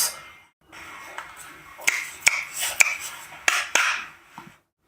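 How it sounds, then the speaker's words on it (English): Sharp hand claps ring out one at a time at an uneven pace, roughly six in a few seconds, picked up by a computer microphone driving a WebGL demo, close and crisp over a quiet room background. "when he's clapping his hands, the microphone is picking it up"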